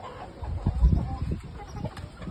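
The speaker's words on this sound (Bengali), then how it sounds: "এই খাঁচা যে মুরগিগুলো দেখতে পাচ্ছেন, এগুলো আমার নতুন আসছে" Desi chickens in a rooftop farm cage cluck softly and intermittently nearby, with faint background rustling and a low murmur.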